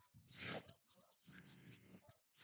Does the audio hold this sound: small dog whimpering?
yes